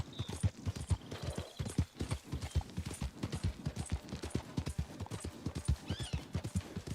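Hooves of a Rose Bay Arabian horse in the Red Dead Redemption video game clip-clop in a steady, brisk rhythm, close and distinct, with a brief faint whinny-like call near the end.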